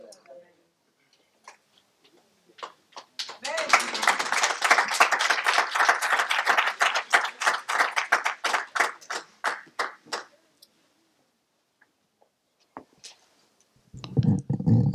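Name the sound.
audience applauding in church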